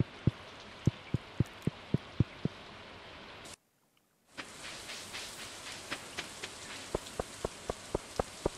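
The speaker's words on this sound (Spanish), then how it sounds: "A lo mejor es porque está lloviendo." Steady rain falls in Stardew Valley, a continuous hiss broken by regular, sharp plinking drops, with a sudden brief silence partway through before the rain and drips resume.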